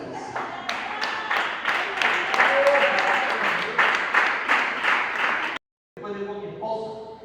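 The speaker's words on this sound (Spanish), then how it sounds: "Es un fuerte aplauso." A church audience breaks into dense, loud applause that carries on for several seconds, with a voice heard faintly underneath, then cuts off briefly before speech resumes.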